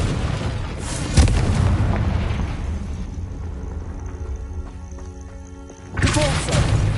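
The Confringo explosive spell in the Hogwarts Legacy video game gives a heavy booming blast with rumbling thuds at the start, a quieter decaying stretch, then another loud burst near the end.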